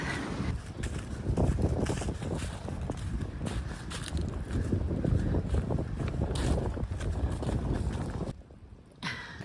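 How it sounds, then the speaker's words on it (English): Gusty wind buffets the microphone outdoors in a continuous roaring rush that surges and eases, then drops off abruptly near the end before a brief final gust. "It's gusty. Wind's revving up."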